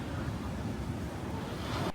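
Ocean surf breaks on a Portuguese beach where a boat sits stranded, a dense, close roar of waves mixed with wind buffeting the microphone, steady for two seconds before cutting off, with nobody speaking.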